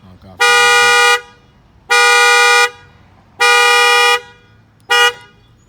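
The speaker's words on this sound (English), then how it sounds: "Just gonna let that honk off" Honda Accord alarm with a shock sensor kit sounding its car horn: four loud, close honks, three long blasts and a short final one, evenly spaced, with no talk.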